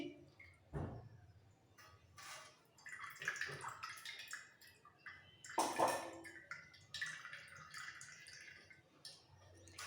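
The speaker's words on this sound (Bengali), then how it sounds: "মিক্সির বাটিতে সামান্য একটু জল নিয়ে এটাকে ধুয়ে দিয়েছি ধুয়ে এর মধ্যে দিয়ে দিচ্ছি" Rinse water from a mixer jar is poured into a ground mixture being strained for egg dum biryani in a home kitchen, heard as scattered splashes and short trickling bursts, strongest midway, fairly quiet and close.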